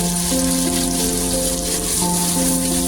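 Green peas, carrot, beans and capsicum sizzle in a pan as a steady, loud, close hiss, with faint sustained tones running underneath.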